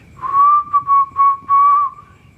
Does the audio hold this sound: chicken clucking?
no